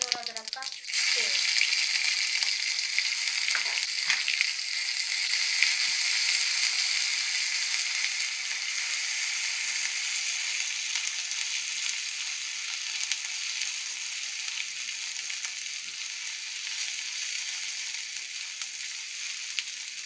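Garlic and ginger paste fries in hot oil with a dense, steady sizzle that holds at an even level for the whole stretch, close up, with a few faint stirring clinks near the start.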